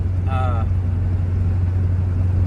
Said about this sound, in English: sorry if it's loud, I'm driving